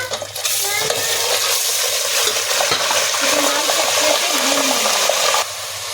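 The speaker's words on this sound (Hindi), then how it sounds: "अब इसी में चिकन डाल के" Chicken added to a hot pan with whole spices hisses into a loud, steady sizzle that holds for several seconds, then drops back to a softer frying crackle.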